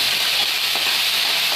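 Chopped onion, green chili and curry leaves sizzle loudly in hot oil while being tempered for a black chana dal sundal, a dense continuous frying hiss with faint stirring.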